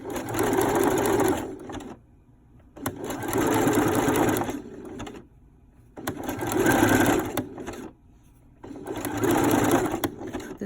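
A sewing machine stitches clear elastic onto a sports bra strap in four sustained whirring runs, each a few seconds long, with short quiet pauses between them.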